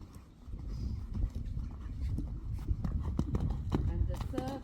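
Horse hooves thud in a rhythmic clip-clop on a riding arena during a jumping lesson, with an instructor's voice speaking over the steady footfalls.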